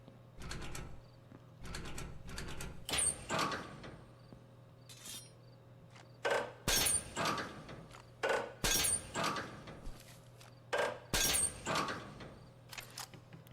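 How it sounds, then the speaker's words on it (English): Crowbar prying things open in the video game Project Silverfish: a series of loud cracking, splintering and clattering impacts, some with glassy shattering tones, coming in irregular bursts over a steady low hum. "It seems like it would be a relevant concern when you opened things up with a crowbar that it would make a lot of noise."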